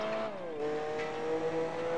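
A race car in Gran Turismo 4 driven in third-person view, its engine holding a steady whining drone that dips in pitch as it shifts, close and continuous with no talk.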